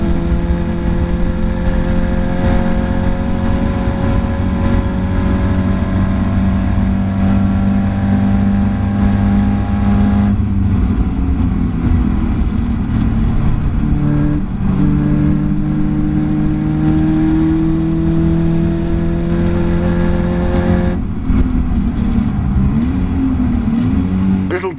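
Caterham Academy race cars at Mallory Park, engines droning loud and continuous as several pass close together, with pitch rising and dipping through gear changes.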